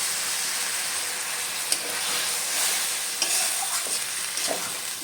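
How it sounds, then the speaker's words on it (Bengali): Hog plum being sautéed with coconut milk gives a steady close-up sizzle with soft bubbling and occasional light spatula scrapes and taps. "একটু নারকেলের দুধ দিয়ে ভালো করে কষে নেব।"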